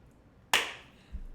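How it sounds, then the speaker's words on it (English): One crisp, close hand clap rings out alone midway, decaying quickly into a quiet room, with a faint low bump shortly after. "Clap again."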